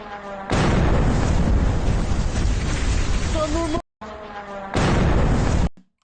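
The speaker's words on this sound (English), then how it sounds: "a massive explosion when this thing goes off" A Russian Shahed drone explodes in a street in Zaporizhzhia, a loud sustained roaring blast lasting several seconds, cut off briefly and then followed by a second burst of heavy rumbling noise.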